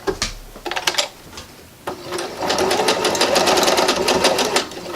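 A sewing machine stitches fabric pieces together for pajama pants, first in short stop-start bursts, then in a steady rapid whirring run of needle strokes, close and clear.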